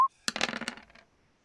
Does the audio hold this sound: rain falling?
no